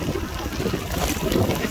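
Heavy rain pours down during a 35-mile Nutroll race in Albany, Georgia, a dense, constant wash of broadband hiss with wind buffeting the microphone and no break.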